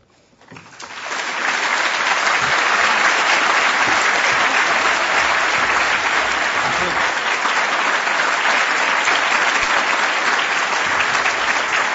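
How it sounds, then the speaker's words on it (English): Applause from an audience at a national distracted driving summit swells within the first second into a loud, dense, sustained wash of clapping that holds steady to the end. "That applause is for you, Jennifer."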